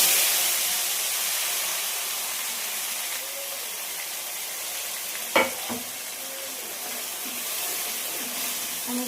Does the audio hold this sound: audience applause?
no